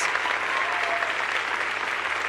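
Dense, continuous applause from an awards-night audience for winners and nominees of the Young Floridian program in St. Lucie County, steady and moderately loud throughout.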